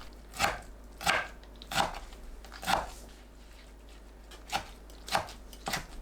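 Seven distinct knife chops cut aged kimchi on a cutting board, spaced at a steady, unhurried pace, close and fairly quiet with no talking.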